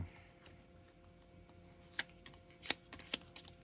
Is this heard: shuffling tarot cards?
yes